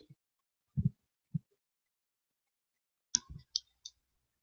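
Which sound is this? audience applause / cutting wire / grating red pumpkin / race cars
cutting wire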